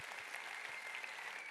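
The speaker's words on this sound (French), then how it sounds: "Vous pouvez les applaudir très très fort." Soft, continuous applause from a hall audience at an AFRC ceremony, a dense, even wash of clapping heard at a distance and fairly quiet throughout.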